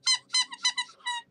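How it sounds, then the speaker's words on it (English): A squeaky toy squeezed five times in quick succession, each a short, bright, high squeal, loud and close, with no speech. "I still have my squeaky toys."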